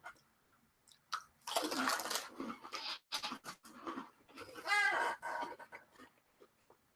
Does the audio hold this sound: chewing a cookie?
yes